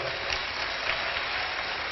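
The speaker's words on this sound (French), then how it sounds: "Monsieur Modeste Bahati, qu'on peut applaudir très fort." Audience clapping in a hall at a Congolese political party's anniversary gathering, a dense steady wash of applause that fills the whole moment, fairly distant and even, with no voices over it.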